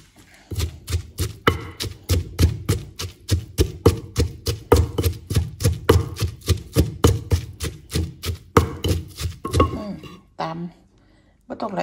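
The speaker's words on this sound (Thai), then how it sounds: "โขลกให้ละเอียดเรียบร้อย" Seasoning ingredients for jaew bong chili paste being pounded in a mortar: a steady run of sharp, heavy thuds about two to three per second, close up, ending with a few irregular knocks and then quiet.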